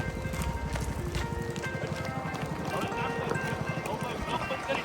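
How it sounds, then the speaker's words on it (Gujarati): Hooves of mares being ridden along a road clip-clop in a quick, steady rhythm, close and clear throughout, while riders talk over the hoofbeats. "મિત્રો જો આપણે ઘોડીઓ લઈને જઈએ છીએ દારૂના માર્ગમાં."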